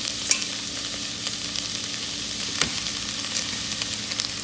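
Ground beef and onions frying for pastitsio, stirred with a wooden spoon: an even, close, steady sizzle with a few soft knocks and scrapes from the spoon.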